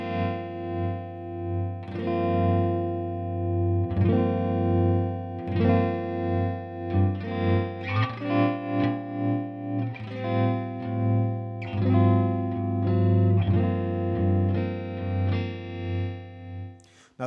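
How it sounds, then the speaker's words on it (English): Chase Bliss Gravitas analog tremolo pedal shaping a sustained, distorted chordal tone, its volume pulsing and swelling in waves as rate and depth rise then fall, loud and continuous throughout with no talk. "Now those are sounds you are not going to be able to get from any other tremolo pedal."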